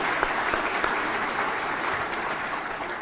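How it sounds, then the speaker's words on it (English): An audience at the White House Tribal Nations Conference claps in steady, dense applause, loud and continuous for a few seconds, with no talking. "Let's give Raina and the White House folks a round of applause"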